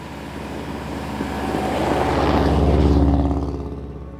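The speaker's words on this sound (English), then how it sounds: "when we started the WRX to head into town" A Subaru WRX engine running in a snowy winter setting, a low rumbling drone that swells in loudness toward the middle and then eases off, heard alone without talk.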